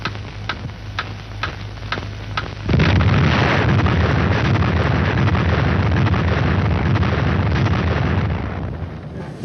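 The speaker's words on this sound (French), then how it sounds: "la minute solennelle de la première explosion atomique française" Gerboise bleue, the first French atomic bomb test in the Algerian desert: after a few seconds of ticking pulses over a low hum, a massive sustained roar of explosion erupts and rumbles loudly on to the end.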